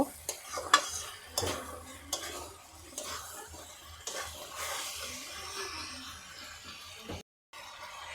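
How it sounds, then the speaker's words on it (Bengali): A spoon stirs and scrapes spices with Kashmiri chili as they fry in a pan for a country chicken kasha curry. Soft sizzling sits under irregular, close metallic scrapes, with a brief dropout near the end. "ভালো করে নেড়ে চেড়ে কষিয়ে নেব"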